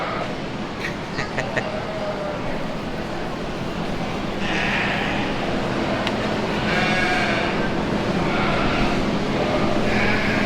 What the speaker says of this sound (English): they might be crossbred because look, they're not all